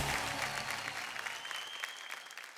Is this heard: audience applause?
yes